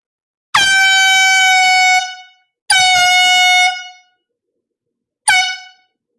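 Three loud, blaring blasts from red can air horns: two long ones about a second and a half each, then a short final burst, with silence between.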